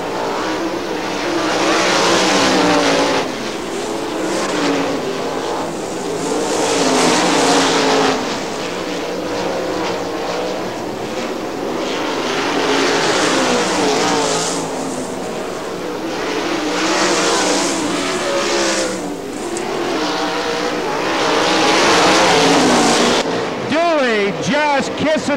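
410 sprint cars race at Butler Motor Speedway, engines roaring loud and continuous as they swell and fade past on the oval while a track announcer talks over them.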